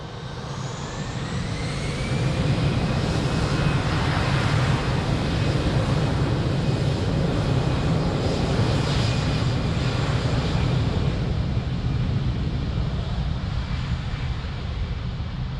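An airliner taking off from runway 32 at Lisbon Airport, a loud sustained jet roar with a faint rising whine, steady and broadband throughout, with wind noise blending in.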